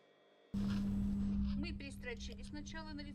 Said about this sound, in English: We need to stitch it open to strengthen the binding.